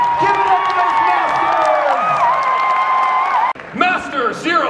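Audience applause and cheering ring out at a FanX 2021 cosplay contest, loud and steady with whoops, then a brief break before a voice speaks over renewed crowd noise.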